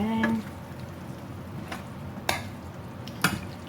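Thai basil chicken (pad krapao kai) stirred in a pan, a low steady sizzle with scraping stirs and a few sharp utensil clacks against the pan, close and moderately quiet with no talking.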